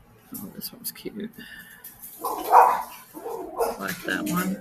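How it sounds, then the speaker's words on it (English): A small dog barks in short, sharp yips and a few longer whining barks, close and moderately loud indoors, mixed with a person talking. "And excuse my little dog."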